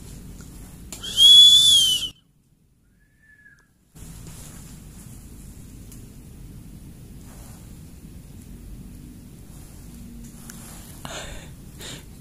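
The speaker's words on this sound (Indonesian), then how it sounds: "Coba kita bersiul" A person whistles at night in an abandoned house, a single short rising whistle near the start, followed by quiet and low background hiss.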